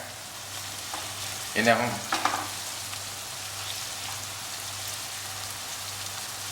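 Onions frying in a pan for chicken curry, a steady soft sizzle with a short burst of stirring and scraping near the start, while a voice briefly speaks.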